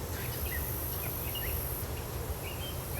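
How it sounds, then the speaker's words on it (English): Cicadas buzzing in a steady, dense high-pitched drone outdoors, continuous throughout with faint chirps, no talk. "fucking cicadas"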